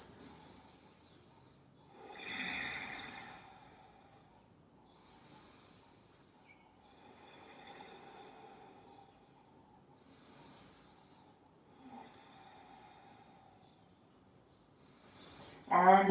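Slow, deep breathing during a hatha yoga pose, with soft, airy inhales and exhales in a steady rhythm at close range, faint and alone until a louder breath at the very end.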